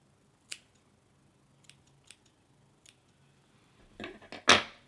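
Several crisp snips of scissors trimming waxed thread ends to a point for fly tying, a few scattered light cuts followed by a louder, closer cluster of snips at the end in a quiet room.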